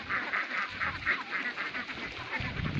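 Ducks at a duck farm feeding area give repeated nasal quacks and honks. The calls come in a rapid, overlapping chatter at moderate volume, close by, with no speech over them.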